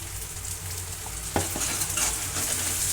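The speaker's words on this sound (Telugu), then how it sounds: "వెల్లుల్లి వసలు వేసిన తర్వాత పచ్చి వాసన పోయే వరకు ఇలా కాస్త మంచిగా కలుపుకోవాలి" Garlic masala for okra curry being stirred in a hot pan, a steady loud sizzle with a sharp spoon scrape and a couple of clinks midway, close and without talk.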